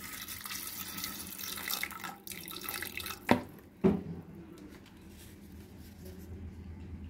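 Water is poured from a tap into a pot of chickpeas for chana masala, a steady splashing wash with two brief sharp knocks midway, close in a kitchen, then a softer trickle.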